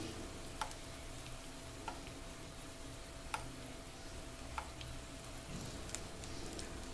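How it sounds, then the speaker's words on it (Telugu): Potato samosa rolls frying in hot oil, with oil ladled over them, giving a steady faint sizzle and bubbling plus a few scattered ticks and light scrapes of the ladle. "ఒక గుంతగా ఉన్న గరిటెను తీసుకొని ఆయిల్ ఈ విధంగా రోల్స్ పైన పోస్తూ ఉండాలండి"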